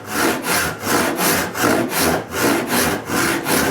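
Handsaw crosscutting a piece of wood with a steady, even rasp, about eight regular back-and-forth strokes, close and loud with no talking.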